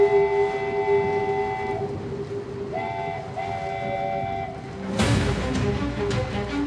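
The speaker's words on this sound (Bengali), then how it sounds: "হঠাৎই ট্রেন আসার শব্দ পেলাম।" A train approaches along a rail line in the rain as an audio drama sound effect. Long sustained whistle or horn tones are followed by a sudden loud rush and rumble as it arrives close by.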